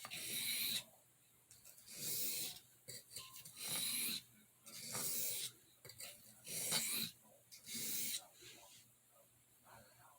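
A knife rasps in steady alternating strokes across a Dan's Washita sharpening stone, about seven soft hissing passes in a regular rhythm, close and quiet.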